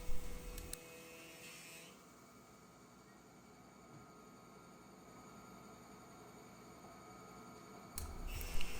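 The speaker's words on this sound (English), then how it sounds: "We're going to pass the boards through the planer multiple times, shaving a little bit off each side until we get to our target thickness" A thickness planer shaves walnut boards, roaring loudly in a short burst at the start and again at the end, with a quieter whir from the running machine in between.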